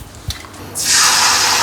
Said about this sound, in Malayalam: അപ്പോൾ ഇച്ചിരി വെള്ളം ഒഴിച്ച് തന്നെ അരയ്ക്കാം